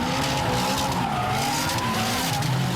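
A drift car at a Formula D competition in Wall, New Jersey screeches its tires in a continuous loud squeal over the roaring engine, the tone wavering as it slides through the corner.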